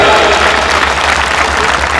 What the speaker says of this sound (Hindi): अब यदि मेरी बात अच्छी लगी तो ताली बजाना।